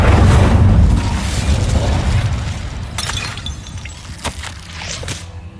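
A fire spell is cast in the video game Hogwarts Legacy, with a loud booming burst up front that fades into crackling, glassy shattering debris and a few sharp impacts, heard with no voices.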